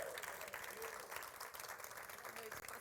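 An audience at an evening church program applauds a guest pastor being welcomed to the stage, a dense continuous wash of clapping heard faintly at low level.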